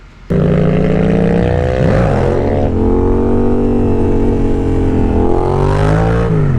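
A motorcycle fitted with an RSC clutch roars close by, its engine revving hard with rising and falling pitch as it accelerates, loud and continuous throughout with no speech.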